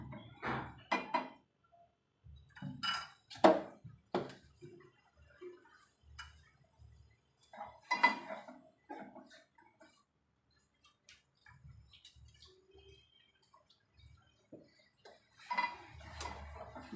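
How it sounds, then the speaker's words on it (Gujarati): Masala chai stirred with a spoon in a metal pot, scattered light clinks and scrapes against the pot's sides, irregular and fairly close, with quiet pauses between bursts. "હવે ચા હલાવતા રહેવાની છે।"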